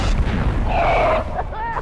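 Mine explosions in the Oddworld: Abe's Oddysee video game, a loud low rumbling boom with a hissing tail filling the clip, followed by a fainter short blast near the end.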